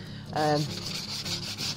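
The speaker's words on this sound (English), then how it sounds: "I use these soft sanding blocks" Soft, rhythmic rubbing strokes of a soft sanding block on chalk-painted furniture, a gentle scratchy hiss repeating close by, with a brief tonal squeak near the start.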